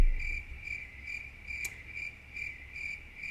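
Crickets chirp in a steady, rhythmic series of bright pulses, fairly close and alone, with no voices over them.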